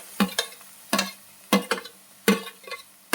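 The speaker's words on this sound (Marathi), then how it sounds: "आता त्याच्यामध्ये टोमॅटो टाकूया." A spatula stirs softened onion with freshly added tomato in a hot pan. Four rhythmic scraping strokes repeat about every half second over a light sizzle.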